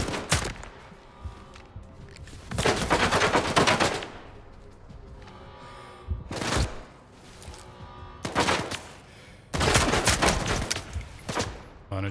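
Rifle fire in a video game comes in several loud bursts, some single close shots and longer rapid strings, separated by short quiet gaps.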